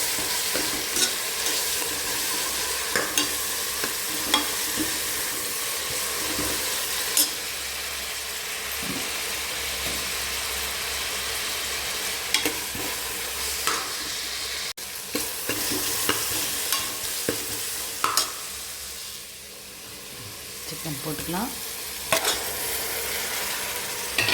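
Food frying in ghee in a pan, stirred steadily for the whole stretch, with a constant close sizzle and repeated scraping clicks of a spoon, plus a brief dip in the frying noise near the end.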